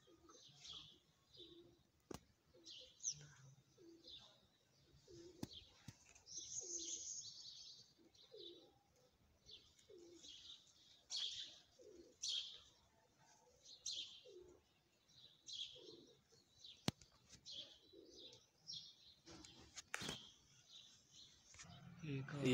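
Soft pigeon coos repeat through the clip with chirps and tweets, some wing flutters and quiet voices in the background.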